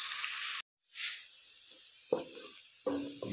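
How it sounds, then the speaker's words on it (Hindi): Onions sizzling as they brown in a pan for aloo palak, a steady hiss that cuts out briefly, then returns fainter with a few louder crackling bursts. "प्याज को हल्का सा ब्राउन करेंगे।"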